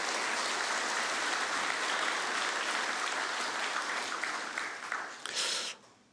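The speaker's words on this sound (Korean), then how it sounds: "찬양으로 수고해 주신 분들 다시 한번 뜨거운 박수로 격려합니다" A crowd applauds steadily for several seconds, a dense wash of clapping that swells briefly before fading out.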